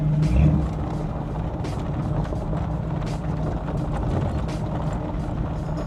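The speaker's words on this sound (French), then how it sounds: "Ça fait un peu le plop-plop comme sur mon Flat 4 mais un peu plus rauque." 1978 Chevrolet Malibu Classic engine idling with a raspy, burbling plop-plop rumble, a steady low throb at moderate level with faint clicks over it, no voices.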